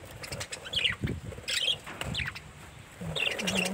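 Budgies and their chicks in a clay breeding pot, with scratchy rustling and fluttering plus high, thin chirps and squeaks, close and continuous, with no voices.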